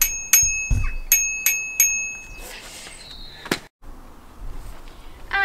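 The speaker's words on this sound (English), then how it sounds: "and a ding-dong bell" A ding-dong bell on a child's bicycle rings five times in quick, bright, close strikes with ringing tails, followed by clattering handling noises and a brief mechanical clunk.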